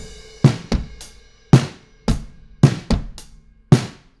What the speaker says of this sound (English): I'm going to take drums that sound like this